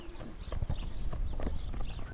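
Horse hooves clip-clopping close by on a rural farm where horses and sheep are kept, a steady run of hoof strikes amid rustling outdoor noise.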